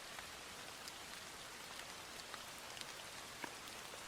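Steady ambient rain falls as a soft, even hiss with faint scattered droplet taps, quiet and uninterrupted throughout with no voices.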